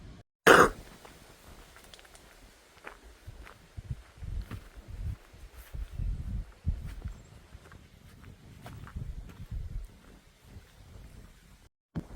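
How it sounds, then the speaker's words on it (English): One sharp, loud cough near the start, followed by quieter shuffling and rustling movement sounds; no speech. "I had to cough my brains out there for a minute."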